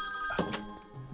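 An old-style telephone bell rings briefly in a Minecraft Five Nights at Freddy's roleplay, a short metallic ring with a dull thunk at the start, close and clear.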